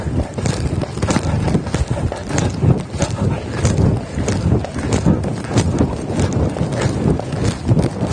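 Rhythmic hoofbeats of a five-year-old mare cantering in a dressage arena, close and continuous with a rolling three-beat patter, amid some wind noise on the microphone.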